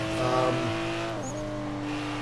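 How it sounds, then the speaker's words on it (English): A Toyota Supra engine drones steadily at high revs while racing on a rally-cross circuit in Forza Horizon 3, with a brief pitch dip midway as it shifts or lifts, loud and continuous. "we are here at the North Plains Scramble circuit to take the Toyota Supra for its 5 laps"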